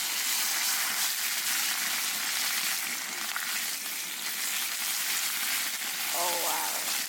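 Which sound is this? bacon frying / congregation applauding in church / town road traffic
bacon frying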